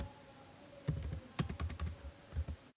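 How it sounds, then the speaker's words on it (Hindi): A handful of close computer keyboard key presses in Tally Prime, uneven clicks with a pause between them over faint room hum. "एंटर प्रेस करते हुए इसको सेव करना है"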